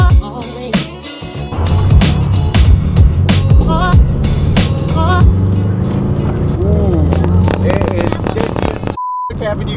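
A car is driving, filling the cabin with steady engine and road rumble while someone talks over it, and a short electronic beep sounds near the end.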